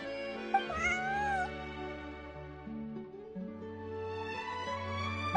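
A game cat in Genshin Impact lets out one drawn-out, wavering meow early on, clear and close over continuous background music.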